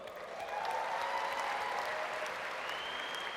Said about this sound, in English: Can we give all of them a huge round of applause?